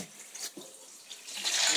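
Water runs from a tap into a sink while hands are washed, a soft, steady splashing that stays close and fairly quiet, with no talking.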